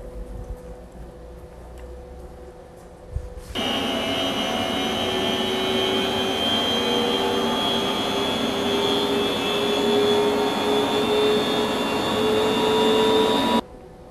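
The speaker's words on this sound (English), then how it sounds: "here's the same fan with a silencer that's mounted on the inlet" An industrial fan with a silencer mounted on its inlet starts up abruptly and runs as a steady broadband whoosh with a faint tonal whine that holds for about ten seconds before cutting off sharply, with no talking.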